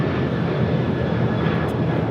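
Airliner taking off from runway 25 right at LAX from intersection Foxtrot, a loud, steady engine roar filling the whole moment, close and continuous.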